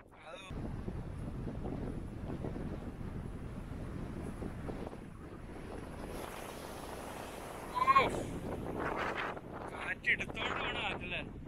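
Steady wind sweeps across an open hilltop at Palkulammedu in Idukki at sunset, a low, even rushing hiss that continues throughout, with a brief louder buffet near the middle and faint voices at times.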